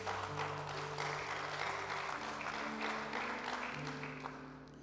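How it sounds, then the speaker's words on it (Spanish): Congregation applauding at a church service during a pastor's sermon, a steady wash of clapping over sustained music or organ tones that slowly fades at the end. "Vamos, denle ese aplauso a Jesús."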